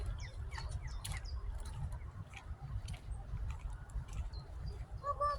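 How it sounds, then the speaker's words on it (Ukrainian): Small birds chirp in short, scattered tweets against a steady low outdoor rumble on a city street in Mechelen, Belgium, the calls faint and intermittent throughout. "Ти чуєш пташечка? Цвінь, цвінь, цвінь, цвінь."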